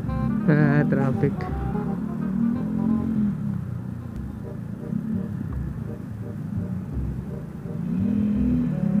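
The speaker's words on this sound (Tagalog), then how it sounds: "Traffic." Steady road traffic rumble heard from a moving motorcycle, with engine drone and passing vehicles swelling and fading throughout; a voice speaks briefly near the start.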